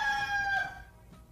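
A rooster crows once, loud and close, its call trailing off after about a second.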